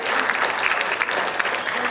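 Applause from a school jazz concert audience fills the moment, a continuous wash of many hands clapping at an even level.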